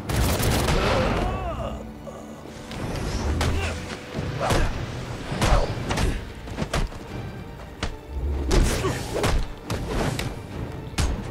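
Repeated gunfire bursts and heavy thuds from a Batman Arkham Origins combat scene, loud volleys spaced through the stretch, with a voice speaking intermittently among the shots.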